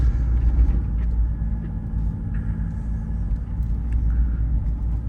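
A BMW E30 Touring with a swapped M44B19 engine idles steadily nearby, a smooth low rumble with no other sounds over it.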